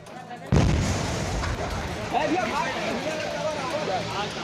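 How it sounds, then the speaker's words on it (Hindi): Gas cylinders stored in a burning shop in Adampur market burst with a sudden loud boom, followed by a roaring, crackling blaze and further distant bangs, with voices speaking over the din. "आग फैली और दुकान में रखे सिलेंडर बम की तरह फटने लगे।"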